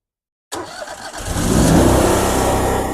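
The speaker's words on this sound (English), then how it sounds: "So basically, we're going to start the engine." A 58 Series dual pump trailer jetter engine cranks after half a second of silence, catches and climbs into a loud, steady run that holds up close to the end.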